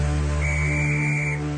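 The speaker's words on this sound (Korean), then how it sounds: "차장이 호루라기를 불자" A conductor blows a whistle at a railway station: one steady, clear blast of about a second rises over a low background hum.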